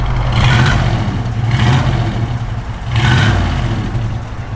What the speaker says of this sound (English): Give a little rev, Dale.